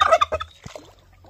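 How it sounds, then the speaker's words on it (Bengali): Poultry near the Garal river in the foggy winter Sundarbans gives a few loud, close, throaty clucking calls in quick bursts, then falls quieter with faint calls trailing off. "দারুণ দেখার মতো মুরগি।"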